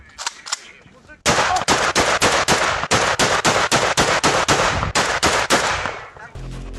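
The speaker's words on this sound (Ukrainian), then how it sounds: "На ньому окупанти стріляють у беззбройних українських полонених." Rapid bursts of gunfire ring out close and loud in wartime Vovchansk, Ukraine, a long string of evenly spaced shots after a few scattered ones, with no talking.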